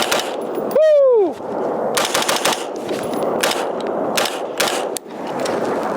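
A ZEV Core Combat Rifle fitted with a compensator fires rapid sharp shots in several quick strings, loud and close, with a whooping voice breaking in near the start.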